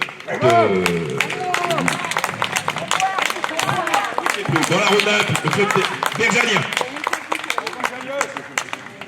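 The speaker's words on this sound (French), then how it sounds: "je vous demande d'applaudir Geneviève Tony du club de..." Audience applause at an award ceremony for a carriage-driving competition, a steady clatter of many hands clapping behind an announcer speaking over a microphone.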